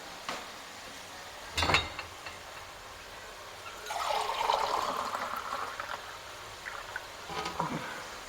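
Water is poured into a cooking pot of fried goat meat, a splashing, bubbling pour of a few seconds after a brief clatter, followed later by a short second splash.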